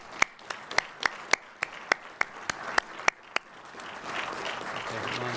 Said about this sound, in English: Please join with me and my fellow commissioners in giving her and Qualtrics a big round of applause.